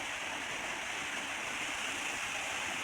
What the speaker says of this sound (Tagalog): Ang taas ng falls. Kaya lang, hindi masyadong malakas yung agos niya.